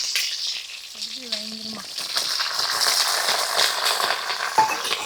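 Onions frying in hot oil, a bright, steady sizzle that builds slightly over the clip. A brief tonal squeak sounds early and a single clink comes near the end.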